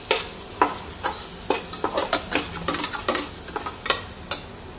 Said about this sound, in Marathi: चटणी चांगली भाजून घेऊया